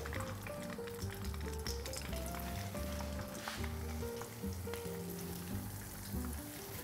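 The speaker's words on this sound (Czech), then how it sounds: "Takhle připravené, obalené a naplněné řízky smažíme v přepuštěném másle v rozehřáté pánvi do zlatova." Breaded chicken schnitzels stuffed with soft cheese, bacon and onion fry in clarified butter in a hot pan, giving a faint continuous sizzle beneath background music.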